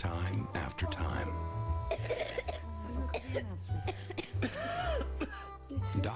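Coughing in a Robitussin cough syrup commercial, a few short coughs and throat clearing heard up close over a background music bed, with speech around them.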